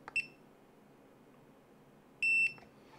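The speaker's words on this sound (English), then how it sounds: "if you don't like the buzzer or the key beep" Two short electronic key beeps from a SkyRC S65 battery charger, a quick one followed by a longer tone about two seconds later, clear against a quiet background.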